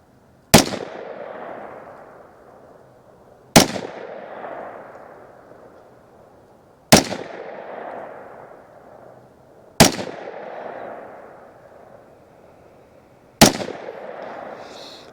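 Five sharp rifle shots from a KelTec CMR30 fired at a steady, unhurried pace about three seconds apart outdoors, each crack loud and close with a short decaying echo trailing off before the next.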